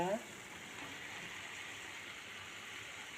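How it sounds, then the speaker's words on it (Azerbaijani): Zucchini pieces hit a hot pan of stew with a brief clatter, then settle into a steady, even sizzle of frying that carries on alone, fairly close and moderately loud. "İndi isə kabaçkiləri əlavə edirik yeməyə."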